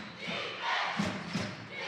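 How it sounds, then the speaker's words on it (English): At a girls' basketball game, the crowd roars and cheers as the Lady Broncos of Enterprise rally. The sound is a sustained, swelling mass of voices with a few louder surges. "And now the crowd is absolutely into it here"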